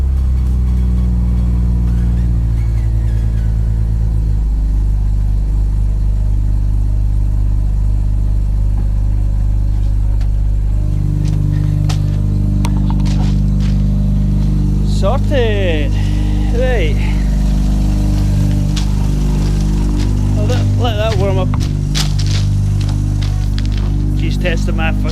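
A Mazda RX7 rotary engine idles and warms up in a garage after starting trouble, with a loud, steady low drone that shifts pitch partway through. Brief voices and clatter are heard over it.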